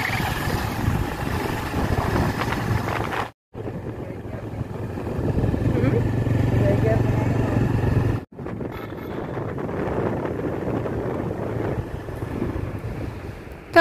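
A new motorbike being ridden along a road, its engine a constant low drone buried in heavy wind buffeting the microphone, with two brief dropouts and speech mixed in.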